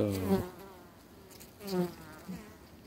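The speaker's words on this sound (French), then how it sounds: "ça c'est une abeille qui se fait tirer par les pattes par une fourmi" Two short bursts of insect buzzing, like a bee flying close past, with quiet pauses between them.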